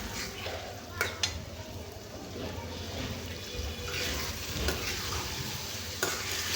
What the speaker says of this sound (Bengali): এভাবে কিছুক্ষণ 10 থেকে 15 মিনিট কষিয়ে নেব